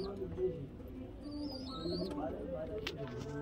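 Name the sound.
pigeons cooing in a loft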